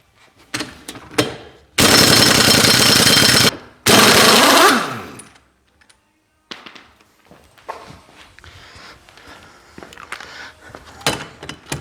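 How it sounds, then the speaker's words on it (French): An impact wrench loosens the driveshaft nut on a car wheel, two loud sustained rattling bursts of rapid hammering, with shuffling and clanking tool sounds before and after. "je vais essayer la clé à choc"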